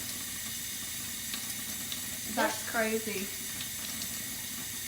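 A thin stream of tap water running steadily from a faucet as a charged balloon bends it, a soft continuous hiss under a brief, excited spoken remark.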